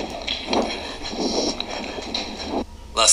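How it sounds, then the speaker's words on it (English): Train approaching through a tunnel, a rumbling roar with rhythmic rattling swells that builds and drops away near the end, heard alone without voices. "It's a train!"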